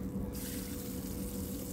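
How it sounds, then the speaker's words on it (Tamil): Hot water from rinsing a mixer jar is poured into a pan of Adamant creeper (pirandai) thogaiyal, giving a steady, continuous splashing pour that is fairly close and lasts throughout. "நம்ம அந்த மிக்சி வாஷ் பண்ண இல்லையே அந்த தண்ணியை மேலே சேர்த்துக்கலாம்."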